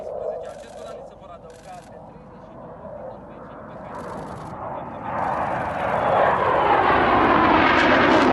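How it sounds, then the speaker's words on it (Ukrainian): An F-16 fighter jet roars during a demonstration flight at a training centre in Romania. The broadband jet noise swells steadily louder as the aircraft closes in, ending at its loudest. "По обіді змі показали кадри показових польотів на західних винищувачах."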